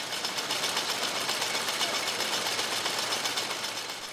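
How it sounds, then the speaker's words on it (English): A screw gill type fast jute drawing machine runs with a dense, loud, continuous mechanical clatter and rapid rhythmic ticking, steady throughout the clip at close range. "This is a screw gill type fast drawing machine."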